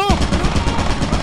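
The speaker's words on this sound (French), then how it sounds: "C'est la tourelle qui fait le Metal Gear." An automated turret in the game Lethal Company fires a rapid, loud burst of machine-gun shots at close range, continuous chattering rounds.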